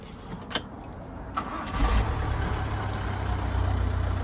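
A few clicks, then a van engine, jump-started from a jump pack, cranks and catches, settling into a steady, close idling rumble.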